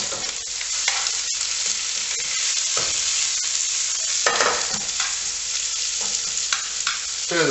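Sliced onions fry in a pot, a continuous hiss and crackle broken by scraping and knocks as a spoon stirs them around, heard up close without any speech.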